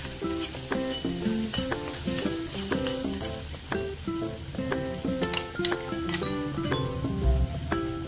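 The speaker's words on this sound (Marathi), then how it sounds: "छान तेल सुटेपर्यंत मी मसाला परतून घेणार आहे" Masala fries in oil for chole, a continuous sizzle and stirring heard beneath a steady musical backing track, with occasional light clinks from a utensil against the pan.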